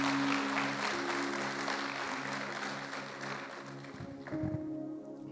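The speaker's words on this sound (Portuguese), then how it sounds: "Queria que você aplaudisse Jesus nessa noite," A church congregation claps during an evening service, a fairly quiet wash of applause with sustained musical tones beneath, fading toward the end as voices come in.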